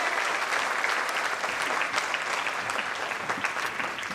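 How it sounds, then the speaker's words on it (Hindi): Loud, sustained applause from an audience at a public event welcomes a guest, a social activist, onstage, a dense steady roar of clapping for about four seconds with no voices. "जोरदार तालियों के साथ उनका स्वागत किया जाए"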